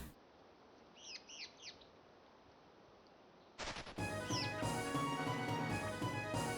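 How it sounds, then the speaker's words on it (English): A bird in the game Aveyond: Rhen's Quest gives a few high, quick chirps over a faint hiss. Loud game music then cuts in, and one more chirp comes through over it. "And you're gonna hear that bird chirping the entire time"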